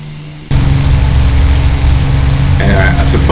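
The engine of a Mark I Spitfire in a flight simulator starts up abruptly and keeps running as a loud, steady mechanical roar, with a brief higher rattle near the end and no voices.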